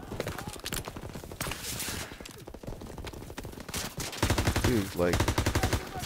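Rapid gunfire in the World War II D-Day campaign of Call of Duty WWII on Xbox One: dense, repeated bursts of shots throughout, loudest toward the end, with someone talking briefly over them.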